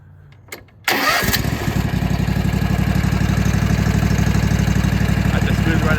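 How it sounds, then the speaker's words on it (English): A Kawasaki FR651V 22-horsepower twin engine on a Toro TimeCutter 42-inch zero-turn mower cranks and catches, then settles into a loud, steady, close idle with an even throbbing pulse. "It's got that Kawasaki FR651V 22 horse twin."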